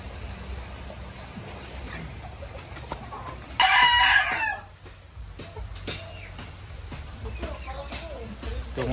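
White chickens and a rooster at a farm in Montalban, Rizal after a typhoon flood, with clucking scattered throughout and one loud crow bursting out near the middle, while a person talks nearby.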